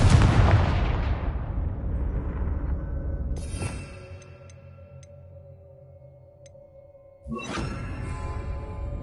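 A Confringo fire spell from Hogwarts Legacy bursts with a loud fiery blast that fades into a low rumble, followed several seconds later by a second sharp explosive impact.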